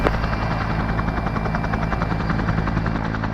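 Loud, close Bell Cobra attack helicopter during an airshow display, its rotor beating in a fast steady chop over a dense engine roar that stays constant throughout.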